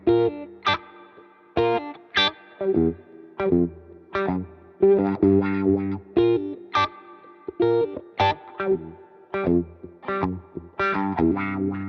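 Electric guitar with a split-coil humbucker tone plays a choppy funk riff of tight, staccato muted chords and short stabs, treated with chorus and light distortion, in a steady syncopated groove.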